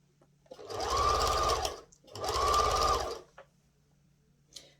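Sewing machine stitching premade piping onto a cushion cover, two close bursts of rapid mechanical whirring about a second and a half each, separated by a brief pause, then quiet handling.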